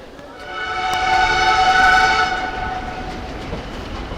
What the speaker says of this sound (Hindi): रुड़की रेलवे स्टेशन से डिपार्चर करती हुई intercity express Haridwar Sriganganagar intercity express.